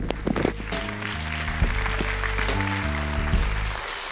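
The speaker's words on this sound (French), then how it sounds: "On peut applaudir les mécènes et les remercier pour leur soutien à la comédie." A theatre audience applauds the theatre's sponsors at a season presentation, steady clapping spread across the whole clip beneath sustained tonal music.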